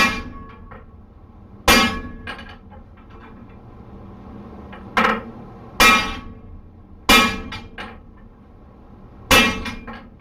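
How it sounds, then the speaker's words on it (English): A hammer strikes a cold cut set on 3/4 inch steel stock, six sharp ringing metallic clangs at irregular intervals, each trailing off into a short resonant decay. "Using the cold cut to get this where we need it to be."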